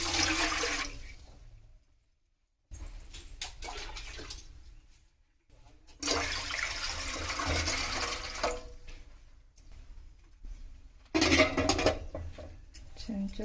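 Water running and splashing into a cooking pot on a gas stove while itili batter is being prepared, a steady pouring and rushing sound with a few pauses and a louder burst near the end, no talk.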